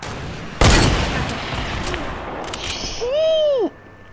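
A single sharp sniper shot in an online shooter game, loud and close, followed by a stretch of softer game ambience and a brief whistling, pitch-bending effect near the end.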